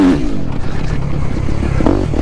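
A 250F motocross bike from a 2024 lineup revs loudly and close, its tone rising and falling through a couple of throttle blips over a steady engine drone.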